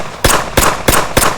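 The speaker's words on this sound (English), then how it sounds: "A gunshot rang out." Four sharp gunshots crack in quick, evenly spaced succession, each a loud broadband burst with a brief decaying tail, close and with no talk.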